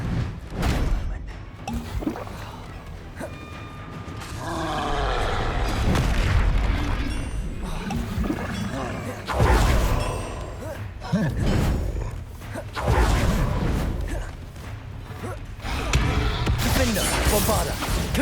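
Spell blasts from the Hogwarts Legacy video game: repeated booming, crackling magical bursts fire one after another, loud and dense, with rumbling impacts rolling through a busy battle soundscape.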